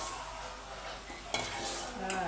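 Curry leaves and coriander being dry-roasted in a pan for chuda, with a steady stir and scrape of the utensil and soft crackle, sharper clinks near the middle and end, close and alone.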